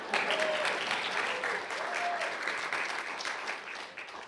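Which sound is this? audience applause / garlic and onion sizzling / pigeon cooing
audience applause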